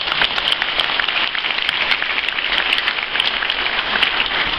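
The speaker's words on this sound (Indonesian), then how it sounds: "Boleh tepuk tangan sekarang." An audience claps steadily at the close of an Indonesian religious address, a dense, even roar of many hands filling the whole stretch without speech.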